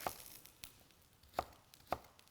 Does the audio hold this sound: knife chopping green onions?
yes